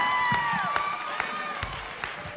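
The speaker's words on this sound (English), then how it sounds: "You all deserve applause." An audience at a St Lawrence school production of Bye Bye Birdie applauds the cast's parents, a steady wash of clapping from a crowd with a few sharper claps and sustained tones running over it.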